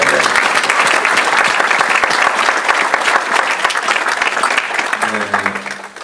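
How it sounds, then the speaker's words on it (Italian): An audience gives Claudio Lolli a dense, steady round of applause, loud and close, which thins out toward the end as a voice begins to speak. "E un applauso a Claudio Lolli."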